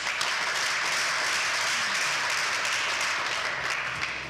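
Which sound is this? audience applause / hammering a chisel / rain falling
audience applause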